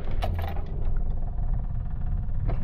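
A six-cylinder engine in a Leyland Marina runs warm, a steady low rumbling drone with a faint mechanical clatter on top, close and continuous throughout.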